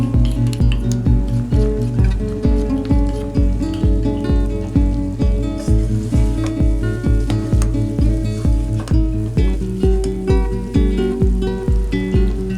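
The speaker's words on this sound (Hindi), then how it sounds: "अब इसमें मैं मसाले डाल दूंगी जो कि मैंने साबित रखे थे" Ground spices going into beef biryani masala frying in a pan give a steady, loud sizzle, with a repeated stirring rhythm of spoon scrapes and light clinks throughout, and no talking.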